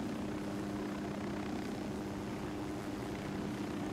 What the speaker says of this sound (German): ich würde warten, bis der Heli wieder raufgeht.